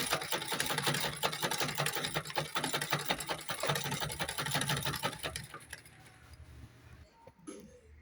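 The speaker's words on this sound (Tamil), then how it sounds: "இதை இப்போ நான் சைடெலாம் தைக்க போகிறேன்" Sewing machine stitching the sides of a mosquito net for a window runs in a fast, even rattling burst for several seconds, then slows and stops, leaving a few faint clicks, close and clear with no talk.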